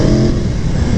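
Aprilia Tuono V4 1100 Factory motorcycle cruising on a country road, its engine giving a steady, loud, close drone with wind rush and no break throughout.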